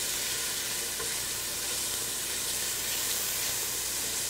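Chili being stirred in a pot on the stove, a soft constant sizzle and bubbling hiss with faint stirring beneath, steady and unbroken for a few seconds, no voices.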